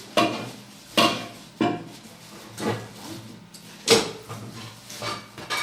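Pots and pans from a new 24-piece cookware set clank and clatter as they are unboxed, with about six sharp metallic knocks in an uneven rhythm, close and fairly loud against quiet room noise.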